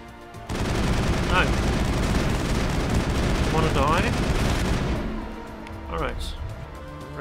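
Sustained automatic gunfire and heavy weapon bursts in the Mass Effect video game, a dense loud barrage lasting several seconds before fading, with voices talking over it.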